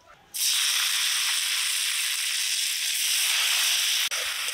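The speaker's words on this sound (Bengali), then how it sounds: "ঘিয়ের মধ্যে নেড়ে চেড়ে চালগুলো ভেজে নিচ্ছি।" Washed bhog rice dropped into hot ghee sets off a sudden loud, steady sizzling hiss that holds evenly for several seconds, heard up close with no talking.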